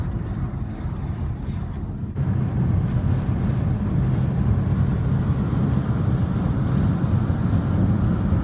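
Strong wind buffets and roars continuously on a bright, blue-sky day in Fuerteventura, a loud rumbling gust-driven noise that grows heavier after a couple of seconds, with no other sounds standing out.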